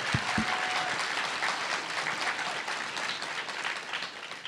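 An audience applauds Kathy Bates with a steady, continuous wash of clapping, a couple of soft thumps at the start, fading gently toward the end.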